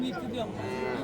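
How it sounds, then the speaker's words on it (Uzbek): Cow with calf at a Samarkand livestock market, a short, low moo amid the murmur of the crowd. "Ona bola sigir."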